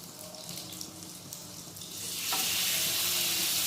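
Chicken hits a hot pan with coconut ghee. After a quiet stretch, a sudden loud sizzle erupts and holds as a bright, steady hiss until the end.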